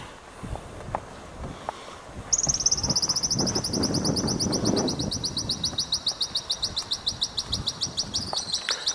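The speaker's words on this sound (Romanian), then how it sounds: "de asta se aud păsărele" Small birds chirp in the early morning at ancient Greek ruins, a fast, regular high-pitched trill running continuously after a quiet start, with faint footsteps and distant ambience underneath.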